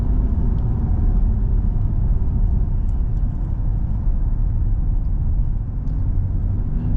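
A C8 Corvette's engine drones steadily from inside the cabin while driving around town, a constant low rumble with no pauses or revving.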